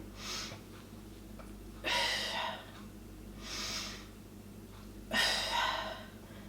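Four audible breaths during a Pilates dead bug exercise, alternating softer inhales with louder, longer exhales in a steady rhythm, close and clear with no talking over them.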